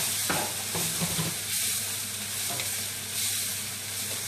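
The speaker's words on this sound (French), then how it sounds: "je vais rajouter en premier les courgettes. Elles sont encore surgelées, donc elles vont perdre de l'eau" Frozen courgettes sizzling in a frying pan with lardons, a steady moderate hiss of steam and spattering water with occasional soft stirring clicks.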